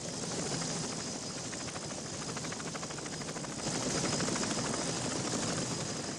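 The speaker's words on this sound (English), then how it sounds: "The Huey was able to carry 11 soldiers and their equipment." A Huey helicopter in flight during the Vietnam War, a continuous loud rotor and engine roar with a rapid blade chop that holds steady and grows slightly louder partway through.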